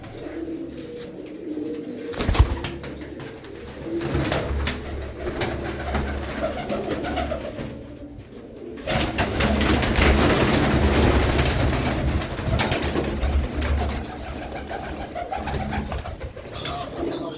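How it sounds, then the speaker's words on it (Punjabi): Pigeons of a prized fancy breed coo steadily and loudly at close range in a loft, their throaty calls layered over constant background noise with a few sharp knocks. "ਇਹ ਵੀ ਬਾਈ ਤਾਰੇ ਵਾਲੇ ਕਬੂਤਰ ਹੈ"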